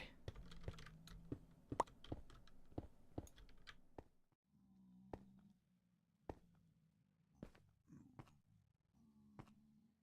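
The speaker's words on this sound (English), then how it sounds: "Sorry if you can hear my keyboard being mashed." A computer keyboard is mashed during Minecraft play: rapid, uneven clusters of sharp key clicks, dense at first and then sparser, close by, with a low hum beneath and quiet voice-like sounds in between.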